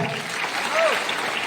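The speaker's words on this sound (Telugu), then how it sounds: "ఒకసారి బిగ్ క్లాప్స్ ఇద్దాం." An audience at a luxury car showroom opening claps in a brief, steady burst of applause, with a speaker's voice running over it.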